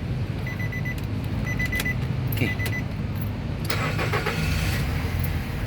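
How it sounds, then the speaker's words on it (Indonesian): A 2009 Nissan Serena 2.0 Highway Star automatic starts up: electronic chime tones sound first, then the starter cranks and the engine catches with a broad burst near the end. "Sekarang kita coba kita start ya mobil."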